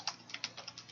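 Quick, light keystrokes on a computer keyboard, around eight soft clicks in an uneven rhythm within a second, close and quiet with no talk.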